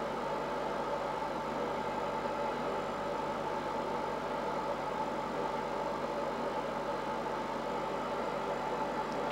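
Boeing 737 jet engines idling, a steady, even drone with a low hum throughout, fairly faint and unchanging, with no other sounds.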